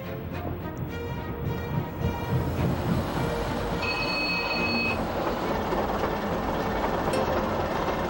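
A train runs along the rails with a continuous rumbling roll and wheel noise, plus a brief high metallic squeal midway, steady and moderately loud with no voices.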